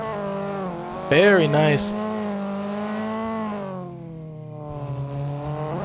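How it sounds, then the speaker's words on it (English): A car engine in the Assetto Corsa sim racing game revs sharply in a brief clutch kick during a touge run, a quick rising-and-falling blip over a steady engine drone, with someone talking throughout. "Needing a little clutch kick, I heard that."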